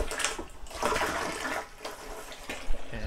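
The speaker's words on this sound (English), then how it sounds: "I'm filling my bucket with water." Water gushes and splashes into a bucket for manure slurry for a biogas digester, a continuous rushing pour with surges, fairly close and with no talking.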